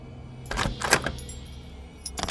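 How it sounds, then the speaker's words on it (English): A key scrapes and rattles against a front door lock in a few short metallic bursts: one cluster of scrapes, then a pause and a final brief jiggle, close and fairly quiet. "Then the sound of a key, or something like a key, scraping against the lock."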